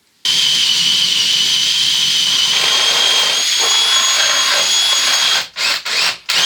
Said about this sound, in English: I better drill a hole first